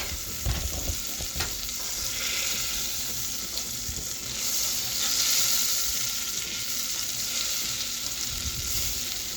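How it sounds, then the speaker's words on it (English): Butter melting in a pan on the stove before flour goes in for a white enchilada sauce, giving a steady, close hiss of sizzling that swells slightly midway, with a few faint clinks early on. "So you saw the melting butter."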